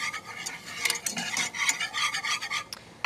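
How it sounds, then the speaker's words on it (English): Flour stirred into melted butter in a pan to start a thickening sauce, a steady scraping and rubbing of a utensil with short rasping strokes, close and fairly quiet, with no talking. "We're going to add in our flour and give it a stir"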